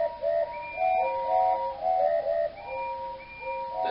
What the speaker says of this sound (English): drowned in a delighted chorus of cheers and whistles